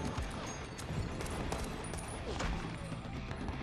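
Sustained exchange of gunfire between soldiers and rebels, dense overlapping shots with no pauses, loud and continuous throughout.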